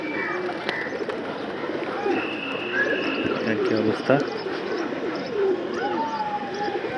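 Pigeons coo around a loft in the afternoon, a steady layered murmur from several birds with occasional chirps, while someone talks briefly nearby.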